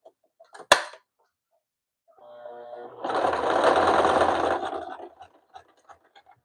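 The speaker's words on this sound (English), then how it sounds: "let me test sew something together here." A sewing machine runs a short test stitch after a sharp click, starting slowly and then whirring at a steady loud pace for about two seconds before stopping, with a few small clicks afterward.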